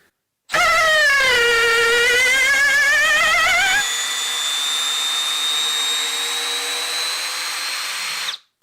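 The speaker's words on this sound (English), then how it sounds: "these are 2 powerful drills" Kobalt and Milwaukee cordless drill drivers with 2 amp hour batteries run at speed 1 in a head-to-head test, a loud, close, steady motor whine that shifts pitch partway through and then stops abruptly.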